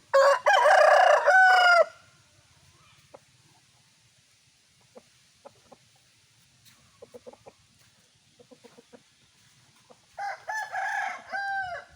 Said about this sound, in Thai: ไก่พ่อพัน